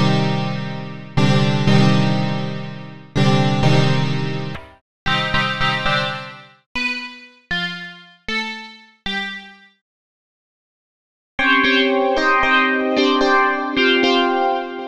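Synth patches from Ableton Live's Wavetable instrument play a run of decaying chords and plucked notes, pause for a stretch of silence, then return with sustained bright chords, loud and clear with no talk.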